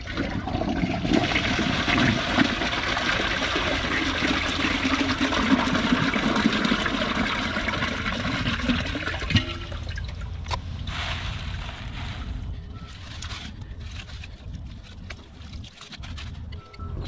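A toilet flushes thick tissue paper with a loud rushing gush of water that runs for several seconds, then drops to a quieter trickle and refill.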